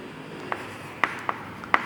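Marker or chalk strokes tap and scratch on a board while a physics formula is written out, four or five short, close strokes spaced irregularly against a quiet room, no voice.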